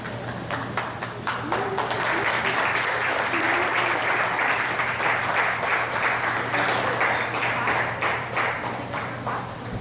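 A church congregation applauds its Sunday School teachers with steady, loud, sustained clapping from many hands filling the room, a low hum beneath and faint voices among the crowd.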